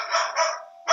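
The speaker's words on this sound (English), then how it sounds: "excuse me, that's just my dog." A dog barks twice close by in an indoor setting, a pair of sharp loud yaps about half a second apart with no talk over them.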